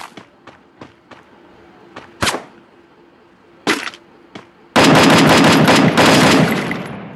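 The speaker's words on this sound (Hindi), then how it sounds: "एक दो गोली चलाओ।" Gunfire in the Free Fire video game: a handful of scattered single shots, then a loud sustained burst of rapid automatic fire near the end.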